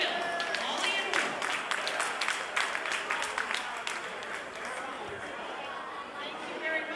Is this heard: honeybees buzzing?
no